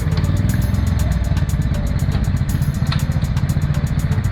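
A motorcycle idling at a road toll plaza, its engine a close, steady throbbing rumble with light mechanical clatter running throughout the few seconds.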